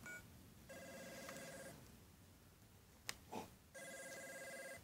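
A synthetic telephone ring from the video game Rhythm Heaven repeats in long electronic trills, with a brief click and rustle in the gap between two rings.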